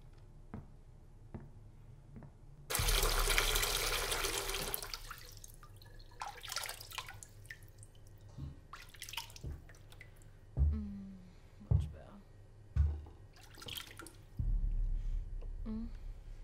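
Tap water runs into a kitchen sink in a burst lasting about four seconds, followed by scattered drips and small splashes, with a second gush near the end; quiet indoor room.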